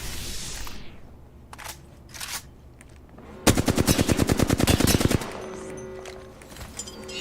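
Rapid automatic gunfire in the battle royale game Apex Legends, a loud sustained burst of fast regular shots after a few scattered single cracks, with quieter game sounds around it.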